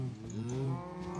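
Cows in a Minecraft cow farm give a close, loud, drawn-out moo from the video game, with no talking.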